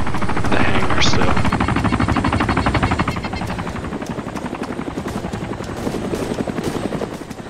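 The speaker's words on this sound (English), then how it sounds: "Third helicopter, right above us." Helicopter rotor chop thumps steadily and loudly throughout in the video game DayZ Origins, with faint background game noise layered underneath.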